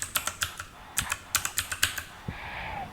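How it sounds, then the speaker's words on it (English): Quick, crisp keystrokes on a computer keyboard in short bursts of clicks with brief pauses, close and clear with no talking. "Can I type?"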